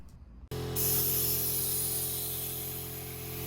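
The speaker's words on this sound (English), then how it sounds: "I set up for vacuuming on the rear passenger caliper" A vacuum brake bleeder starts on the rear passenger brake caliper of a DeLorean. A sudden burst of steady, close air hiss cuts in and then continues without a break.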